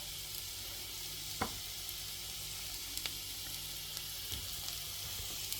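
Garlic and ginger frying lightly in oil, a soft steady sizzle with a few faint spoon taps and scrapes against the pan.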